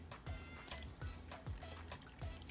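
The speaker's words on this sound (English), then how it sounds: "So that means that you need to get some more water." Water trickling into a pot of cooking Mexican rice, a soft, quiet pour with gentle periodic bubbling pulses.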